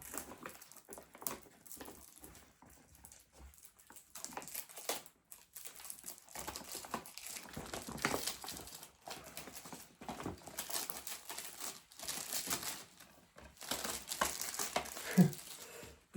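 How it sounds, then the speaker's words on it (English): Cellophane wrapping being peeled and crinkled off a DVD case, irregular close crackling and tearing bursts with short pauses, fairly quiet and with no talking. "I'll taking the cellophane off here."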